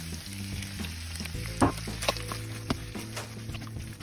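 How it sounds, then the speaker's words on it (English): Carbonara pasta and bacon sizzle and fry in a frying pan, with scraping stir strokes and occasional clinks of a utensil against the metal. "Add your mixture and give it another stir."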